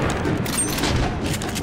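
Dense, loud gunfire rattles continuously in the video game The Bureau: XCOM Declassified, with overlapping bursts and booming impacts during a firefight.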